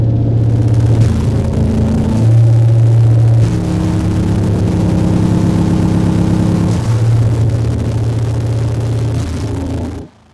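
An electric guitar runs through three blended death metal distortion pedals, playing loud, heavy, sustained low chords that change every second or two before cutting off abruptly.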